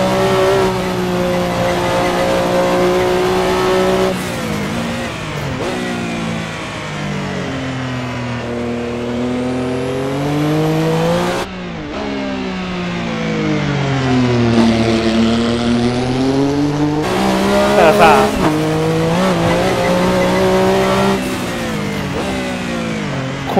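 A race car engine in a driving simulator game revs and climbs through the gears, with pitch rising and dropping over repeated shifts and a brief tire squeal. It is loud and continuous throughout, with no talk.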